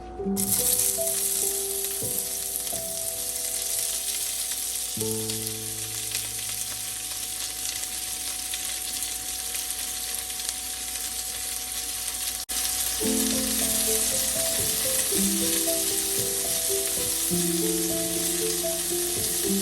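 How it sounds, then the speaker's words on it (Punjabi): Onions hit hot oil in a pan for a karela and onion sabzi, giving a steady, continuous sizzle over background music. "ਤੇਲ ਗਰਮ ਆ ਜੀ ਸਾਡਾ ਹੁਣ ਪਿਆਜ਼ ਪਾ ਦਿੰਦੇ ਆ"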